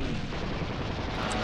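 Artillery guns firing in the Panzer General II strategy game during the invasion of Poland, heard as a dense continuous rumble of booming blasts, loud and sustained for a short burst.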